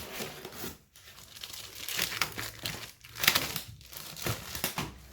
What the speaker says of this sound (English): At this point you can remove the cardboard.